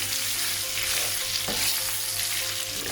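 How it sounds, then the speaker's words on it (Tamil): Pork bites frying in hot oil while stirred, a loud close sizzle with scraping stir strokes, continuous and without talk. "இந்த இறைச்சியை 3/4 பதத்துக்கு பொரிய விடணும்"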